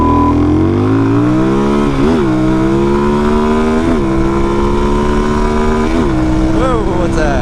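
A Suzuki DRZ400 motorcycle accelerates hard from 0 to 60, its loud engine note climbing steadily in pitch with brief dips at each of several gear shifts, close and dominant throughout.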